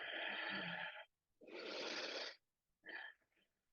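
Three audible breaths during a seated yoga twist, each a broad airy rush lasting about a second, separated by short silences, the last one shorter and fainter, with no talking.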